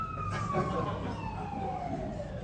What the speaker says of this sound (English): That's the other ambulance for Tim.